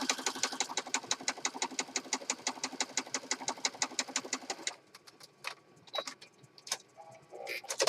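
Sewing machine stitching down the side of a handmade journal cover, a rhythmic, evenly pulsed run of needle strokes for nearly five seconds, then stopping, followed by scattered soft handling noises.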